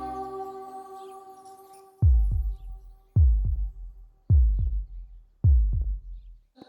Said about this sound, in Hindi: मेरी धड़कन तुम्हें सुनाई देगी